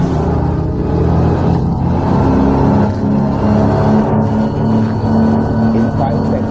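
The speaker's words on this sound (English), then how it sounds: "Crazy quiet shift gears, hang on, full throttle" Beneteau Antares 11 boat with twin 300 hp Suzuki outboards at full throttle, a loud steady engine roar and rumble that holds throughout, with a voice briefly audible over it.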